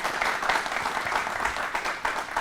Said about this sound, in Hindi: यहाँ पर जो व्यूअर्स इस वक्त बैठे हैं हमारे साथ में, उनकी तालियों ने ही आपको बता दिया होगा कि आपका आइडिया कितना पसंद आ रहा है सभी को।